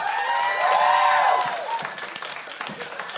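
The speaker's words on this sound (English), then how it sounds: "Give it up. Clap." Studio audience applause and clapping, loud at first and tapering off, with excited voices and cheering woven through the burst.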